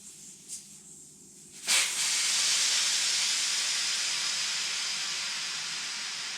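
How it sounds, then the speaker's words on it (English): Air rushes out through a valve from a Packard Cavalier's rear 4-link air suspension bags, a sudden loud hiss that starts after a brief quieter moment and then holds steady while fading slowly. "Now what I'll do is I'll pull the valve and let all the air out of it."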